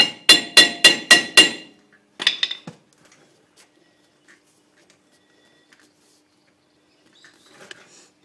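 Hammer blows on the rear wheel bearing of a 1998 Subaru Impreza: five sharp, evenly spaced metallic strikes, then a quicker burst of lighter taps, followed by faint scattered clinks in a quiet workshop.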